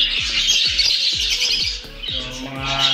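Several African lovebirds kept as pets give a run of loud, harsh squawks in quick repeated bursts, close to the listener and overlapping one another, with no talking.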